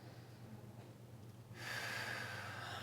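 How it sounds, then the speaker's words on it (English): A deep, full rib breath taken in by one person, heard up close: a quiet stretch, then a sudden, steady breathy rush of air that lasts about a second and a half, with no talking. "So this is what a full rib breath looks like."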